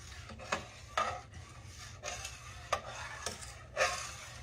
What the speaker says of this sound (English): you kind of mix the cocoa with just a little bit of milk first to get it, you know, all wet and kind of creamy.